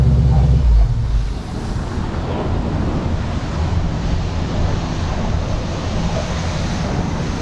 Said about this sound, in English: so we're at the car wash.